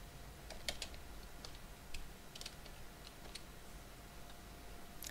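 Someone types a program name into Google on a computer keyboard, giving a quiet, uneven run of close, crisp key clicks with short pauses and no voices.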